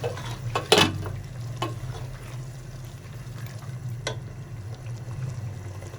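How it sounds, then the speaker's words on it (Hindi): Chickpeas in spice masala cooking in a pot, a soft steady sizzle and bubbling with a few stirring clinks and scrapes, close and quiet. "मसाले के साथ चने पक रहे हैं, ये देखें।"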